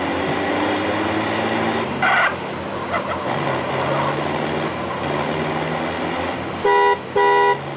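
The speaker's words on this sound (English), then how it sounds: "So that's what the horn sounds like on this van." Steady engine hum of a van in Grand Theft Auto: San Andreas with short bursts of a blaring horn, one early honk and then a quick double honk near the end.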